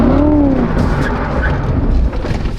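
A Corvette sports car drives hard and skids, with a close tire squeal at the start giving way to loud, rumbling engine and road noise.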